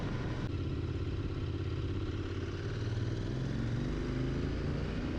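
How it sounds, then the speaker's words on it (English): A Royal Enfield Interceptor 650 motorcycle engine idles nearby with a low, throbbing exhaust rumble, steady and continuous with faint mechanical clatter. "I love that engine note in the exhaust."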